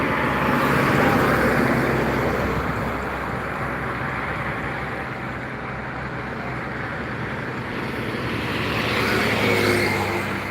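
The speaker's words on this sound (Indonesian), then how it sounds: "Masih truk yang melintas." A truck rumbles past on a road, a steady broad roar of engine and tire noise swelling and fading over several seconds.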